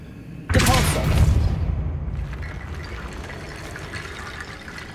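Depulso spell cast in the video game Hogwarts Legacy, a sudden loud whooshing burst with a splashy, washing body that decays over about a second and a half into a faint lingering ambience.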